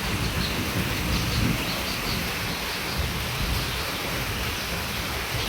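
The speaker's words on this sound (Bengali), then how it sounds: "হ্যাঁ রে বৃষ্টি" Heavy storm rain pours over a flooded poultry farm, a dense, steady roar of falling water with a low rumble beneath and no talking.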